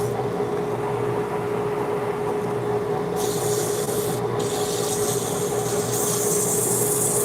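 A wooden hollow form spinning on a lathe is sanded through the grits, producing a steady, loud abrasive rushing hiss with a constant motor hum beneath. The hiss brightens about halfway through, and nobody talks.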